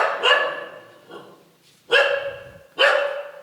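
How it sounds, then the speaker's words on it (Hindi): A dog at an ashram beside a footpath barks repeatedly, about four sharp barks at irregular intervals, fairly close and unaccompanied by talk. "लेकिन एक कुत्ते की आवाज़ ज़रूर आ रही है यहाँ पे।"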